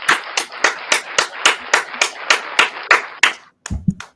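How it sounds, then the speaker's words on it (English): Applause for a guest on a live show, heard as a quick run of about a dozen sharp, evenly spaced claps followed by a brief knock at the end. "Round of applause for our guest, Willx054."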